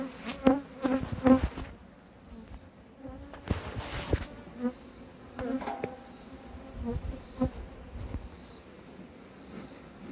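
Honey bees buzz around an open hive during beekeeping, their droning hum rising and falling close by, with scattered soft knocks and shuffles.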